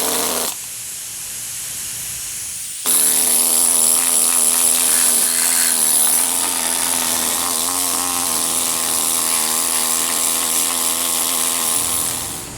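Power tool grinding and knocking heavy rust scale off a Jeep Wrangler YJ steel frame, a loud, steady buzzing whine that starts with a brief burst, drops out for a couple of seconds, then runs continuously to the end.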